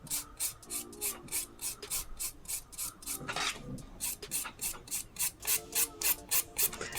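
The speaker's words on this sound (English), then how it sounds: "By filing the top section as well, it really does make your wall nice and crisp." A nail file rasps back and forth across an acrylic nail in quick, even strokes, a close, soft scratching rhythm that runs steadily throughout.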